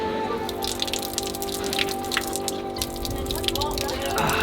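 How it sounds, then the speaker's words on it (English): Ancient water fountain in Pompeii running steadily, with a continuous close splashing and dripping of water over a hum of outdoor background. "Oh, water fountain. Great."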